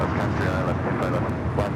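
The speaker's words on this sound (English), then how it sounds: "Frontier 1756 taking off to Houston Intercontinental on the A321neo" A Frontier Airbus A321neo jet taking off at Los Angeles International Airport gives a steady, broad engine roar with wind buffeting, loud and continuous throughout.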